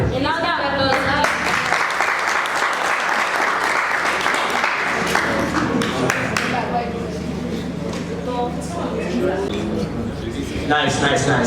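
Applause from a tech conference audience at a developer event, a steady wash of clapping that continues for most of the stretch. Voices and crowd murmur are mixed in, and talk picks up near the end.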